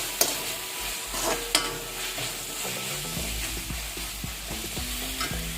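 Tomato chutney being stirred in a pan after salt goes in, with steady scraping strokes over a low continuous sizzle, a couple of sharper clinks early on, and no voices.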